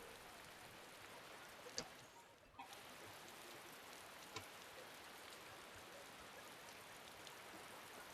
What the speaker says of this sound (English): it's also raining here too